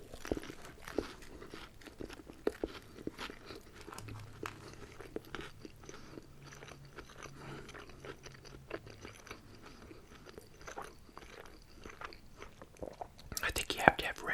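Close, quiet bites and crunchy chewing of a homemade pepper and egg breakfast sandwich on French bread, irregular crisp bursts throughout with soft mouth sounds and a louder crunch near the end.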